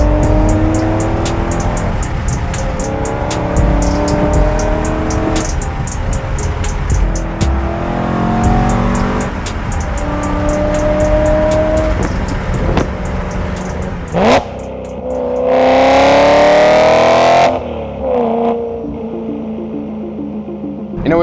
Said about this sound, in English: listen to that V8 purr